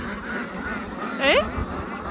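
A duck gives one short, clear quack while ducks are being fed and keep eating, rising briefly above a steady outdoor background murmur.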